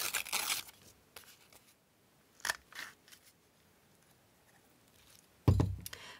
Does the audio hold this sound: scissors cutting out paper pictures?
yes